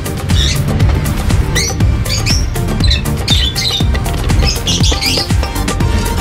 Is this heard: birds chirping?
yes